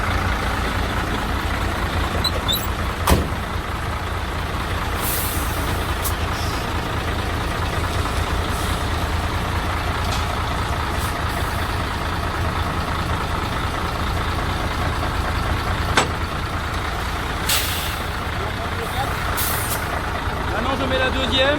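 A large truck idles steadily while reversing, with hissing air-brake bursts and a sharp metallic clack as it couples, under low engine rumble.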